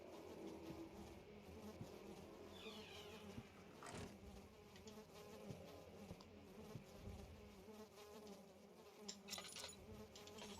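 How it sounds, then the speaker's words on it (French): Flies buzz continuously around the player in the horror video game Amnesia, a steady close insect drone with a few brief louder swells and no talking. "Pourquoi des mouches autour de moi?"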